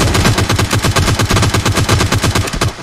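Loud, close bursts of rapid automatic gunfire in the mobile battle royale game PUBG Mobile, a steady rattling stream of shots filling the moment with no speech over it.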